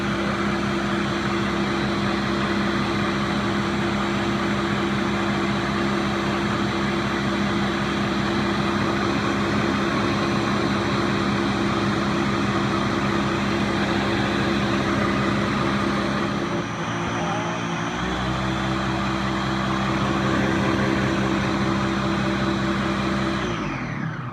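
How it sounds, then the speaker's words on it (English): A blender grinds corn for Ghanaian banku dough with a loud, steady whirring drone that holds for a long stretch, dips briefly as the load shifts, then resumes at full strength. "Be careful of the blender so it doesn't chop off your hands"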